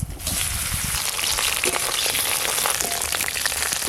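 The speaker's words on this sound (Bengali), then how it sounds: "এবার কেটে ধুয়ে রাখা করলাগুলো দিয়ে দেব।" Cut and washed bitter gourd added to hot oil already tempered with five-spice and dried red chillies, giving a loud, dense sizzle that erupts at once and keeps crackling steadily, close with no talk.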